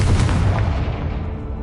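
A Confringo fire spell explodes in Hogwarts Legacy, a loud deep boom with a rumbling blast that rolls on and slowly fades over under two seconds, with no talking.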